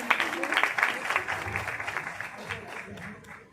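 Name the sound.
audience applause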